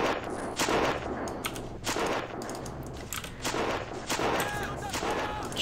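Gunfire from people inside a church in the game Battle of Empires, a ragged stream of musket-style shots and volleys in uneven bursts, loud and close, continuing throughout.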